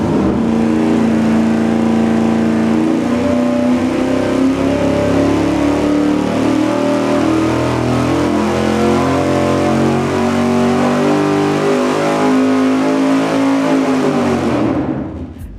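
A V8 engine on a dyno with an open carburetor spacer makes a loud, sustained full-throttle pull, its pitch rising steadily over about fifteen seconds before it abruptly cuts off.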